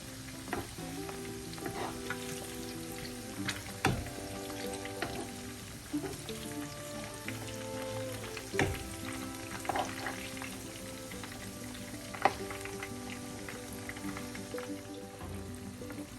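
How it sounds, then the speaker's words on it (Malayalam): Chicken for chilli chicken frying in hot oil, a steady crackling sizzle with scattered louder pops and occasional scrapes of stirring, close and fairly quiet, no voices. "ചിക്കൻ നല്ലതുപോലെ ഫ്രൈ ആയിട്ടുണ്ട് നമുക്ക് ഒരു സൈഡ് തിരിച്ചിടാം"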